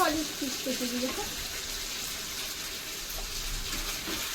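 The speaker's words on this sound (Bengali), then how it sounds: "মাংস আমি রান্না করছি রে ভাই" Meat fries in a pan with a continuous close sizzle, while a voice briefly speaks at the start before the frying continues alone.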